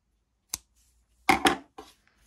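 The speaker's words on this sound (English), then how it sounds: "pull it and cut your yarn here" Scissors snip through crochet yarn while finishing an amigurumi banana, a single sharp cut followed by two quick louder snips and a softer one, close and alone in a quiet room.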